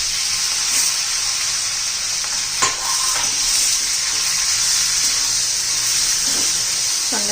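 Capsicum chillies with a little turmeric sizzle steadily in hot oil, a loud, close, continuous frying hiss broken by a few faint stirring knocks, with no talking.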